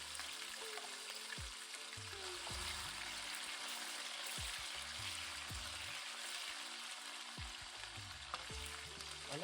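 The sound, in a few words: onions and green chilies sizzling in a hot pan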